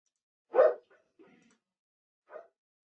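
A small pet dog indoors gives one sharp yap followed by softer, shorter yips and a final quiet bark, close by and without any talk over it.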